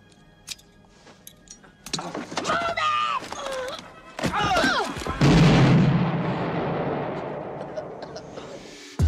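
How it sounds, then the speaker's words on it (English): A grenade is thrown and goes off with a loud, broad boom about five seconds in, followed by a long rumbling decay, after earlier sharp thuds and bursts of voices and radio-like chatter. "Drop the pen, throw the grenade."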